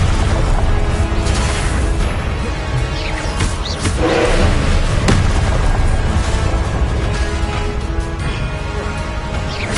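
Confringo blasting spells exploding in the video game Hogwarts Legacy, a continuous barrage of booms and bursts layered over a dense, loud battle din with no clear pauses.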